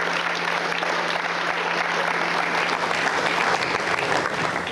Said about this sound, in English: So I would like really to have a round of applause for them